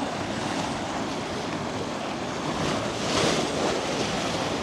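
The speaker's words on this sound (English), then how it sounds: "copious amounts of water coming down there" Rain-swollen rill pouring down as a small waterfall in a country park after a week of heavy rain, a steady broadband rush of water that holds constant and swells slightly near the end, with no voices.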